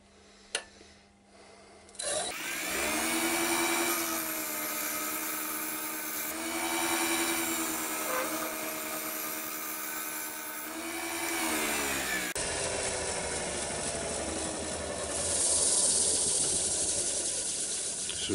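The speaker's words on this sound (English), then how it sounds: "So a piece of wood this size, the lathe takes forever to stop." A wood lathe turning a large walnut bowl gives a continuous rubbing, whirring hum of shifting pitch that runs at length, then changes to a lower, rougher tone as the machine keeps spinning.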